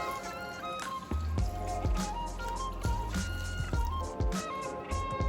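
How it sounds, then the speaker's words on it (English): Red wine poured into a pot of browned beef with thyme, rosemary and bay leaves for bœuf bourguignon, a soft liquid splash and drip running beneath background music. "And then in goes our wine."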